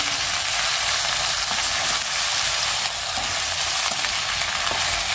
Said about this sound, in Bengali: কড়াইতে কিন্তু তেল পেঁয়াজ রসুন সব দিয়ে দিচ্ছি